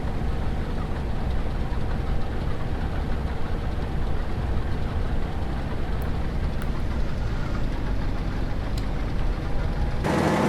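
Engine of a spinach harvesting vehicle in Farming Simulator 25, a steady dense mechanical drone with low rumble held throughout, with no talk.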